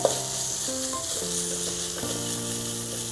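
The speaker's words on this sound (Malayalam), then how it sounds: "ഇങ്ങനെ ഉള്ളി കിടക്കരുത്, നന്നായിട്ട് വഴന്ന് ഇങ്ങനെ അലിഞ്ഞ് വരണം ഉള്ളി" Onions frying in a pan for chicken dum biryani, a steady close sizzle throughout, with a faint background tone of musical notes.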